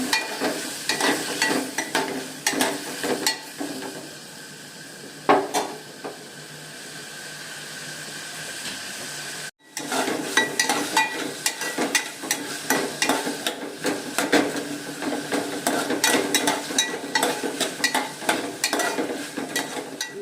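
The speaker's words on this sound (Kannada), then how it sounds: "ಮತ್ತು ಇವಾಗ ಟೊಮೊಟೊ ಹಾಕ್ಕೊತಾ ಇದ್ದೀನಿ. ಟೊಮೊಟೊನೂ ಅಷ್ಟೇ ಸ್ವಲ್ಪ ಫ್ರೈ ಮಾಡ್ಕೊಳ್ಳಿ." Tomatoes and onions fry in a pan for a fish curry, giving a steady sizzle with repeated scraping and stirring strokes, close and continuous apart from a brief break midway.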